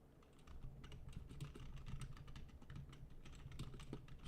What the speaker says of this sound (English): Sorry for the keyboard noise.